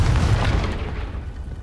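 A Confringo blasting spell goes off in Hogwarts Legacy, a deep booming explosion that hits loud at once and then rumbles and fades over a second or so.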